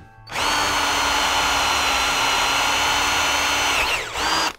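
Makita HP457DWE 18V cordless hammer drill boring a hole, a loud steady high-pitched whine held for about four seconds, then the motor winds down briefly and spins up again at the end.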